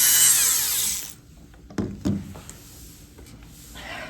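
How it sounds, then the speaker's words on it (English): Dremel rotary tool running at low speed while carving a wax model, a brief high whine at the start, then a few knocks and clatters before a faint whir returns at the end. "the Dremel's really not on very high"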